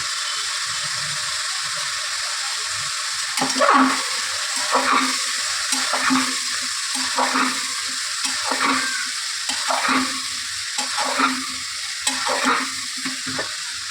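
Spice masala for Bengali chana fries in a hot pan, a steady hiss joined midway by repeated rhythmic scraping strokes of a spatula as it is stirred, close and fairly loud.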